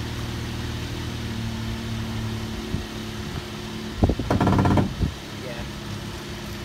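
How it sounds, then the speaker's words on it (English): An electric tonneau cover motor in the boot of a 1997 Saab 900 Convertible whirs and strains in a short, loud grinding burst of about a second over a steady background hum, with a brief spoken word. "That's the tonneau cover motor in the boot, which helps lift this tonneau cover up so that the roof can fold into it"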